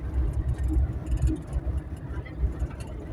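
Diesel engine of a Coaster minibus droning steadily in the cabin on a trip to Multan, a loud low rumble with faint voices murmuring underneath.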